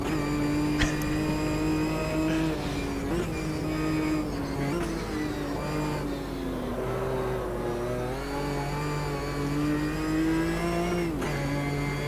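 A Ginetta G55 race car engine laps Bathurst in the racing game Automobilista 2, droning loud and close throughout, its pitch climbing and dropping with each gear change and throttle lift.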